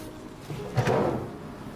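A drawer in a hotel guest room is opened or shut with a single short sliding knock in the middle, close by, against a quiet room.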